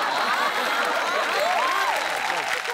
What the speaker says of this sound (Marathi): सवय लागली आहे रे टाळ्या